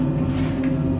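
A fictional machine called the harp, staged as a sci-fi engine in a live audio drama, powering up as a steady, dense low hum that drones without a break, with no voices over it.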